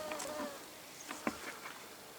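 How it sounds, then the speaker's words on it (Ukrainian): Mosquitoes in a river floodplain forest, whining in short, faint buzzing passes near the microphone against a quiet outdoor background. "Також тут дуже багато комарів."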